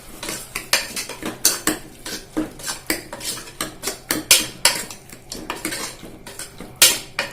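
Biryani base with garam masala being stirred in a pan, rapid metal spoon clanks and scrapes against the vessel in quick irregular bursts, close and sharp, with only a faint sizzle beneath.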